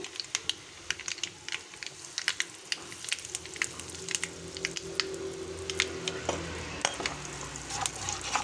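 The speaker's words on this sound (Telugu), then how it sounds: "ఇప్పుడు శనగపప్పు వేస్తున్నా, మినపప్పు కూడా వేస్తున్నానండి. ఇంగు వేసుకుందాము." Chana dal, urad dal and asafoetida crackle in hot tempering oil for a wood apple chutney, giving dense rapid popping and sizzling with stirring scrapes, close and steady.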